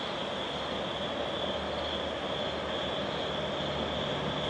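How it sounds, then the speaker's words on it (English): A Metro North diesel train bound for Poughkeepsie pulls into a station late at night, giving a steady, broad engine drone with a constant high whine. There is no talking. "Here comes a diesel train to Poughkeepsie that's actually going to stop here."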